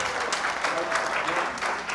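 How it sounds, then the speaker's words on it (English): Steady clapping from an audience at a town special study session in Windsor, a dense continuous round of applause from a crowd in a meeting hall. "Please don't, you can raise your hands, but no applause, as Jeff has said, please."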